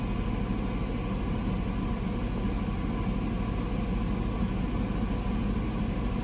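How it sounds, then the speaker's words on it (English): Chevy Blazer engine held steady at about 1500 rpm, a constant low hum without rises or dips, moderately quiet and heard alone. "if you rev it up, we'll hold it at 1500"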